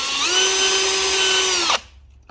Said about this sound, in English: So now I'm going to go ahead and drill a hole in it.